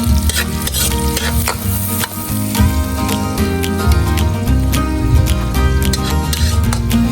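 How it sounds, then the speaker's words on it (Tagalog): Onion and garlic fry together in melting butter, a steady loud sizzle with clinks and scrapes of stirring throughout, cooked outdoors on a farm for chopsuey. "While melting the butter, I'm going to put the onion and garlic sabay na para walang away."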